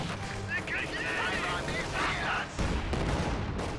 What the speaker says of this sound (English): shooting at that AT gun blob is pretty good usage of the ML-20